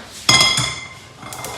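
A non-stick pan is set down for shallow frying, giving a sharp metallic clank and then a second lighter knock, with faint cookware clinks near the end.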